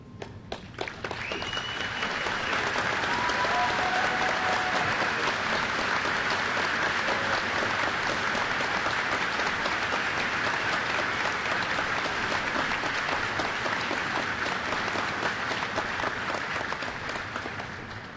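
Sustained applause from a large crowd at a university commencement ceremony, honoring faculty and staff. Dense clapping builds quickly and holds steady and loud for the full length, with no speech over it.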